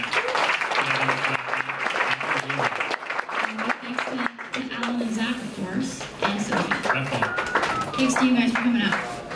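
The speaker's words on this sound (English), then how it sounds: "That's also a round of applause to Google for hosting tonight." An audience applauds at the end of a lecture hosted at Google, with a dense burst of clapping running throughout while voices speak over it.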